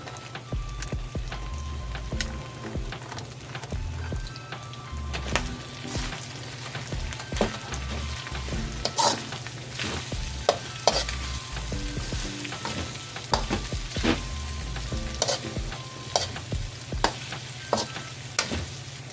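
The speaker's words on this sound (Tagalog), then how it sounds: "Ilagay na natin yung ating onion at saka garlic. Ipagsabay ko na guys. Onion at saka garlic." Onion and garlic sizzle and fry in a pan for pork menudo, a steady close crackle with stirring scrapes and occasional louder pops throughout, with no talking.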